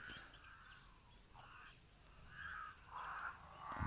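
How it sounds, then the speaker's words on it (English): Cape crows caw in a warm outdoor setting, several harsh calls in short bursts, with the clearest ones clustered near the end over faint background ambience. "listening to the Cape Crows"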